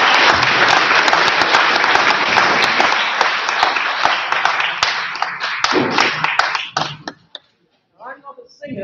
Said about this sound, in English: So please applaud Anjum